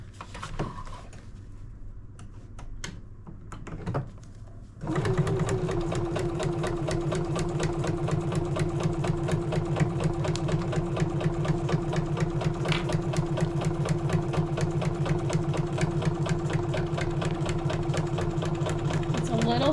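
A sewing machine stitches a quilt block seam, starting after a few quiet seconds and then running in a fast, steady, close mechanical chatter for the rest of the clip, with someone talking over it.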